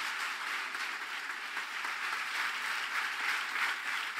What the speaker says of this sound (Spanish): Entonces démosle un aplauso al Señor por esta familia loca.